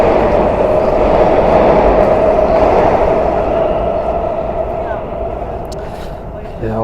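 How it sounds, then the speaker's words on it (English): A steady, loud rumble of a subway train rolling beneath a street grate, with a low hum and a brief talking voice over it. "You can actually hear the train."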